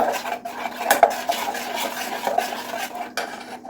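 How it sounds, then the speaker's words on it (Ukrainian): Breakfast mixture being stirred in a bowl for a Transcarpathian frishtik, with steady scraping and clinking of a utensil against the bowl and a few sharper knocks, close and alone. "Перемішую"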